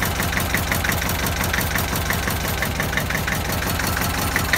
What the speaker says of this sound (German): Deutz Motor 812. Läuft wunderbar.